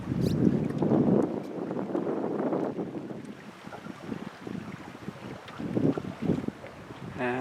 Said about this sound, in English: that's a southwest wind there that just coasted me down the lake in well under an hour